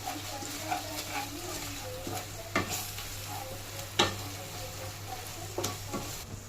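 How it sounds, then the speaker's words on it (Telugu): Onions fry in oil with salt and chili powder as a spoon scrapes and stirs the pan, giving sharp irregular knocks over a continuous low sizzle, with no talk. "కాసేపు ఫ్రై చేసుకుందామండి"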